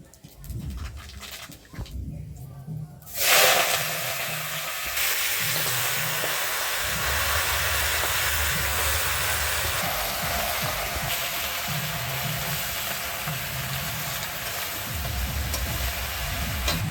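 Panch phoron whole spices hitting hot oil after a light frying, giving a sudden loud broadband sizzle that stays steady and dense, with low clatter of cooking underneath.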